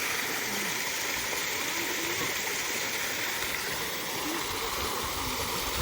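Water splashing and gushing steadily from a village well during outdoor bathing, a dense continuous wash that stays loud throughout.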